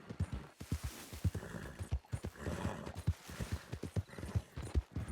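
Horse hooves clip-clop steadily in Red Dead Redemption, a fast even rhythm of close, distinct hoof strikes with some muffled background movement and no talk.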